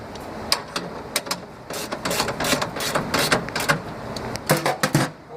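A hand ratchet tightens a bolt into the steering column of a 1963 Falcon during a power steering conversion, giving a close, crisp run of rapid clicking in uneven bursts that speeds up and slows with each swing.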